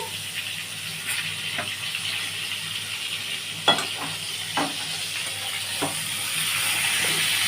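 Pointed gourd (potol) slices frying in hot oil, a steady bright sizzle with occasional sharp crackles and stirring clicks, close and continuous, no voices.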